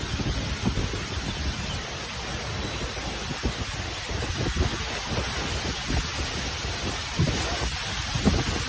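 Heavy rain pours during a severe thunderstorm in the Shanghai area, a dense, constant roaring hiss with low rumbling underneath, loud and steady throughout with no voices.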